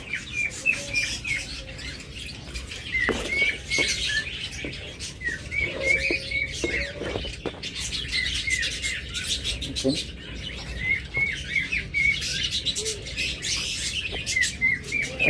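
Caged pet birds, including doves, chirp and tweet continuously in a dense, lively chorus, with repeated high calls layered over a constant background of fluttering and scratching, close and fairly loud.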